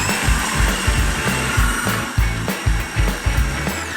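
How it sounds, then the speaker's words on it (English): Electric blender grinding soaked cashew nuts with coconut oil, maple syrup, lemon juice and a pinch of salt into a thick paste, a loud close motor whir with a rhythmic thumping churn as the mixture catches and turns. "Place your soaked cashew nuts into your cleaned blender, along with coconut oil, maple syrup, a squeeze of lemon and a pinch of salt"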